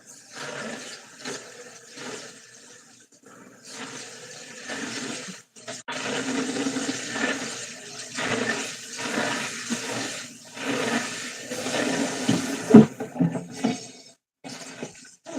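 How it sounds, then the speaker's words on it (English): Tap water running and splashing while a pan is washed out in a sink, in intermittent gushing bursts broken by short pauses, close and fairly loud. "I'm just washing out a pan so I can make my husband something to eat."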